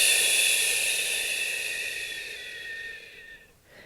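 A long, slow deep breath, a steady airy hiss that gradually fades over a few seconds and ends softly, heard alone without talking.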